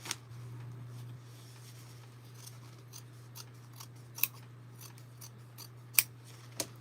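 Scissors trim fabric at the seam allowance of an understitched garment, a series of short, quiet snips at irregular intervals over a steady low hum.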